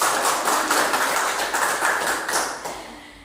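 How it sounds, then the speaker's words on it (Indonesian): Participants at a school meeting clap together in steady, dense applause lasting about three seconds, close and loud, thinning out near the end with no voices over it. "Kasih tepuk tangan"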